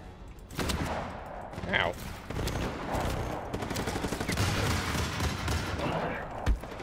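Sustained gunfire in Just Cause 3, with repeated shots and bursts running through the scene alongside explosions and game noise, plus a brief voice exclamation.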